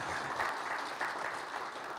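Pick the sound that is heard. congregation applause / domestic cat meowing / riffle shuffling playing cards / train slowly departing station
congregation applause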